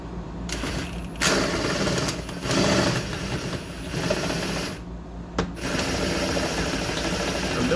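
A drill runs at low speed, a steady close mechanical whir with a rattling, pulsing texture that drops out briefly a few times before resuming.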